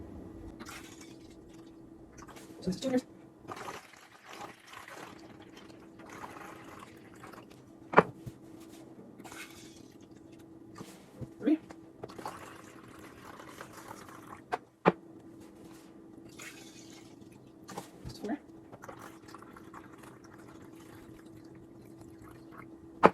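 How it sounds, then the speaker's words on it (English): Water poured into a hydroponic seed-starting setup: intermittent drips, trickles and small splashes that stay quiet and close, with a steady low hum underneath and no talking. "now I'm going to add the rest of my water and we'll continue."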